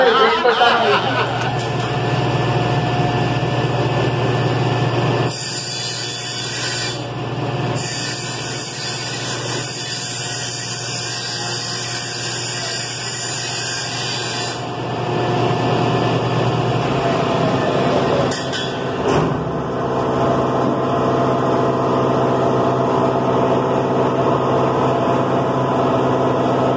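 A power tool cuts a 15 mm wood panel serving as the back of a cosmetics cabinet, a steady loud drone running for several seconds between pauses in a workshop, with a voice speaking around it.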